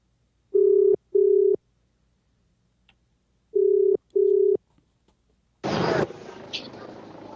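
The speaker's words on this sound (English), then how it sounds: "Do you hear that? The ring?" An outgoing telephone call rings on the line, two clear pairs of double ring tones separated by a few seconds of near silence, followed by a click as the call connects and a voice begins speaking.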